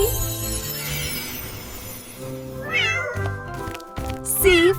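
A cat meows a few times over a children's alphabet rhyme with background music, the calls moderately loud and close, rising and falling in pitch.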